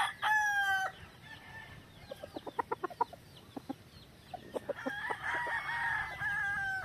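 A Duke Hulsey Grey gamecock crows nearby, followed by clucking and short fowl calls, then another long crow near the end.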